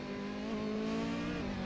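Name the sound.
Ferrari hybrid race car engine in racing video game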